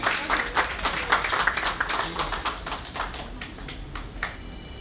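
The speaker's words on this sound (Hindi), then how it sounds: "प्लीज आपकी तालियां" Audience at a felicitation ceremony applauding a speaker, a moderately loud patter of many hands clapping that carries on steadily and tapers slightly toward the end.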